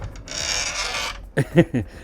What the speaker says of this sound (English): in this creaky closet